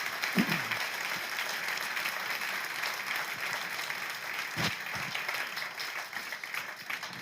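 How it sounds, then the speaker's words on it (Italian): Steady applause fills the hall from an audience at the 44th Masi Prize award ceremony, a dense, continuous patter at moderate level that holds evenly throughout. "Dai, facciamo ancora un grande applauso a Sandro Boscaini."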